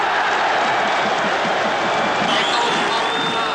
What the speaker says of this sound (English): A very sporting crowd, cheering like mad on a couple of occasions